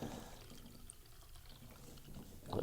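Ordinary tap water pours faintly into a container, a soft, quiet trickle over low background noise with no talking.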